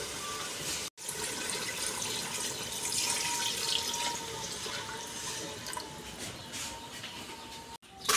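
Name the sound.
water poured into fish curry pan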